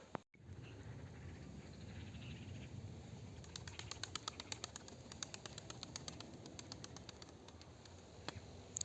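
Pigeons cooing and fluttering, a steady low murmur of calls with faint wing flaps throughout, moderately close, following a brief dropout near the start.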